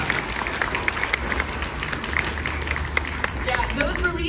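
Audience applause at a SeaWorld Orlando rescue show, a dense crowd clapping with scattered cheers, steady throughout and heard from within the stands, with voices mixed in.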